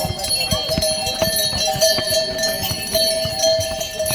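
Horse hooves clip-clop along a path in an uneven, steady series of close, sharp knocks, with voices and general bustle underneath.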